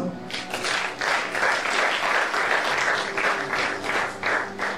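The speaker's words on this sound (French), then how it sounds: "Quelqu'un acclame le Seigneur" A church congregation applauds and cheers to acclaim the Lord, dense continuous clapping from many people filling the room with scattered voices mixed in.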